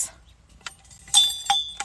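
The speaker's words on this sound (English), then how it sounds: "Having my keys on my water bottle and making that sound would drive me nuts." Metal keys knock against a Stanley insulated water bottle, giving a few short, bright clinks and jingles spaced unevenly within a couple of seconds.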